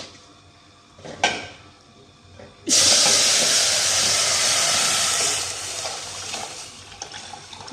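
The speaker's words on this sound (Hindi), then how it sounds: "अब मैं डालूंगी इसमें दूध।" Milk poured into a hot pan of vermicelli roasted in desi ghee sets off a sudden loud, steady hissing sizzle that gradually eases, following a brief clank of the pan.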